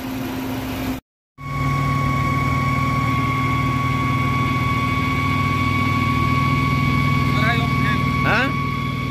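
A car engine idles steadily with a strange noise somewhere under the hood, a constant low hum with steady tonal whine lines, close by, briefly cut out near the start, with a few faint chirps toward the end.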